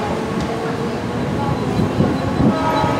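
Train noise at Kurla station on Mumbai's harbour rail line, a steady close rumble of rolling carriages that holds for the whole stretch with no pauses, with faint station bustle mixed in around it.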